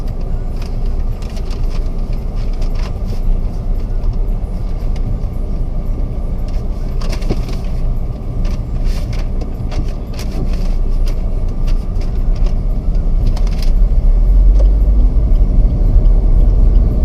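A 2018 Suzuki Vitara GLX on a test drive gives a steady, loud low road rumble and engine drone from inside the cabin, continuous throughout, with faint knocks and light movement noises over it.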